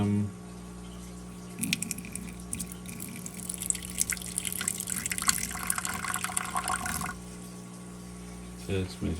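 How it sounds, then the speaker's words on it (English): Water is poured into a shallow reptile water dish for baby Rankin's dragons, a steady close trickle and splash lasting several seconds, with a person talking. "Get their water filled up for them."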